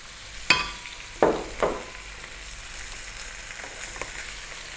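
Fried fish pieces tossed back into a hot pan during stir-frying with Chinese seasonings, a steady sizzle punctuated by a few sharp clatters of utensil against the pan.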